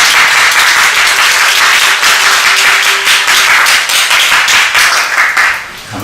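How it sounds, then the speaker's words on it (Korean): Audience applause at a church gathering welcoming a pastor to speak, a loud, dense burst of clapping held steady for several seconds before tapering off at the end. "우리 박수로"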